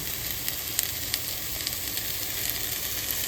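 Fully cooked corned beef from a box sizzles in a frying pan, a steady hiss with small irregular crackles and pops, close and fairly quiet, with no talk.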